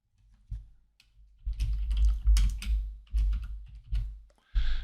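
Keys clack in quick uneven runs on a computer keyboard as code is typed, fairly close, with soft thumping strokes and brief gaps between bursts.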